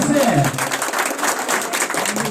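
A crowd at a political rally in Deh claps hard in a dense, noisy burst, while a voice carries over the start of the clapping.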